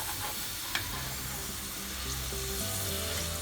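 Potato french fries frying in hot oil for a first round, giving a steady, even sizzle and bubbling that holds throughout at moderate loudness, with a brief clink near the start.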